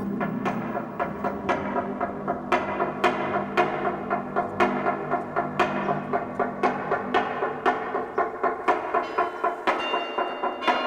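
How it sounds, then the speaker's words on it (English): A wooden semantron (toaca) at a Romanian Orthodox monastery in Bucovina is beaten with a mallet to call the monks to church, giving a steady run of sharp, hollow knocks that quicken in places, with faint ringing tones near the end. "The monks are called to church with the klepolo."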